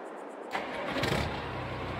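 A truck engine cranks and catches after a brief quiet moment, then settles into a steady rumbling idle close by.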